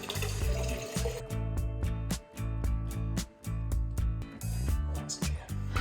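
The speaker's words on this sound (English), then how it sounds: "This is the natural spring that they diverted from a few kilometres away" Water from a diverted natural spring splashes and trickles steadily into a pool or basin in an ancient cave city in Georgia, close and continuous, with gurgling bursts and brief dips.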